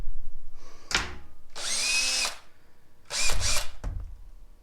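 A Makita cordless drill runs in three short bursts at close range, each whirring up and cutting off, with brief quiet pauses between them.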